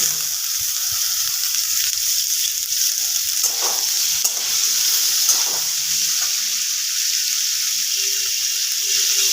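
Dalia with fried vegetables and chicken sizzles steadily in a pan, with scraping stirs of a spoon over a loud, constant frying hiss.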